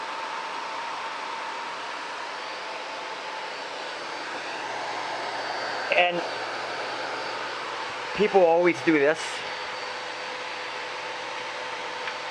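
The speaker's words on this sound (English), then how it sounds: "I don't want to burn out my vacuum because it's quite a bit of resistance there." A Miele vacuum cleaner runs with a steady, even roar throughout during an indoor wildfire smoke filtration test, while someone speaks briefly over it near the middle and end.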